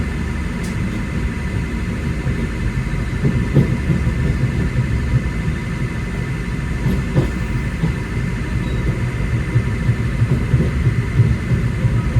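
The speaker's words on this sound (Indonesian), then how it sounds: "kereta api Bangunkarta masuk di jalur" Bangunkarta passenger train rolling into the station on its platform track, a steady loud rumble of wheels and carriages with faint clanks, continuous throughout with no talk.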